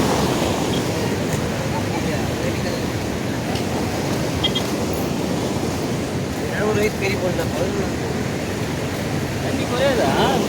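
A broad, continuous roar of floodwater rushing over a bridge in Puducherry after Cyclone Fengal, with gusty wind noise and faint scattered sounds on top.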